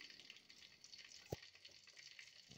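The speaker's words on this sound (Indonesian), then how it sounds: "Kemudian irisan bawang akan kita goreng" Sliced shallots fry in used oil with a faint, steady sizzle and crackle throughout, with one sharp tap near the middle and no talking.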